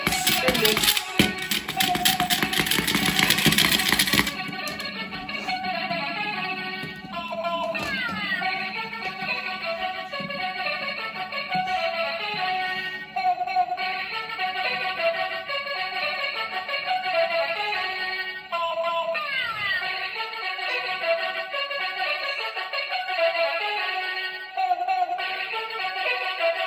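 A toy laser spinning top spins with a steady, high electronic whine and sweeping tones that hold evenly after a louder, noisy start.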